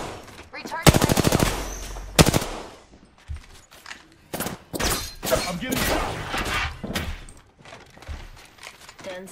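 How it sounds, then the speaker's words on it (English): Gunfire in a match of the video game Apex Legends, with a loud burst of rapid automatic fire followed by repeated shorter bursts and single shots that continue throughout, close and dense. "Firing."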